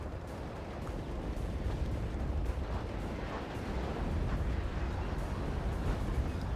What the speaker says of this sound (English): And the rockets come down.